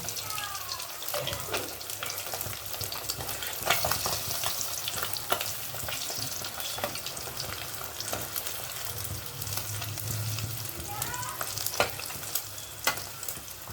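Pabda fish frying in a pan, a steady oily sizzle running throughout with occasional clinks and stirring scrapes, close and moderately loud, with no talking.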